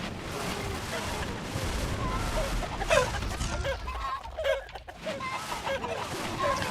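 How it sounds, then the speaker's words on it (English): Chicken clucking from the battle game TABS (Totally Accurate Battle Simulator), with several birds squawking over a busy mix of game noise and crashes, a voice talking over it throughout. "Who's summoning the chickens?"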